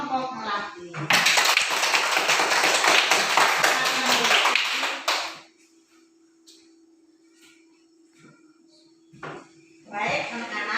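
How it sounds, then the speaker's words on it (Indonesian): Students in a primary classroom break into loud, brisk clapping for a group that lasts about four seconds and then stops. Quiet follows, with scattered taps, and talk resumes at the end. "Ayo kita berikan tepuk tangan untuk kelompok melati."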